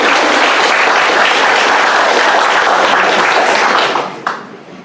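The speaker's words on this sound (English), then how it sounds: "let's welcome Victoria with a big round of applause." An audience welcomes a speaker at a lecture on the 1937 deportation of ethnic Koreans to Central Asia with loud, dense, continuous applause that fades out near the end.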